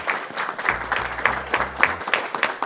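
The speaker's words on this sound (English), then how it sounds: "that deserves a clap" Hand claps during Super Mario-style platformer gameplay, a short run of evenly spaced, separate claps over quiet looping game music.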